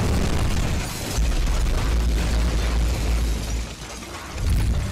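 A bomb blast in a Skibidi Toilet animation rolls out as a loud, deep, sustained roar of explosion that rumbles and swells for several seconds, with no voices over it.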